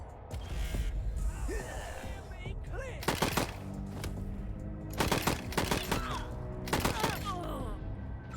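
Gunfire in the Wasteland 3 video game, several sharp bursts of shots in clusters amid game sound effects and ambience, with a voice faintly present.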